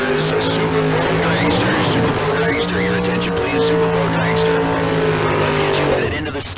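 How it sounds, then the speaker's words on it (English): Super Pro drag racing cars at Tucson Dragway rolling up toward the staging lanes, a loud, steady engine roar with shifting pitch and some tire squeal, mixed with a track announcer's voice. "Super Pro door car. Rolling up and getting ready to go."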